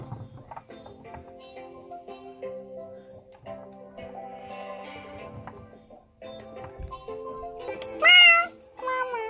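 A cat gives a sharp, rising meow near the end, loud and close, after a stretch of soft piano-like toy music tones and light ticking.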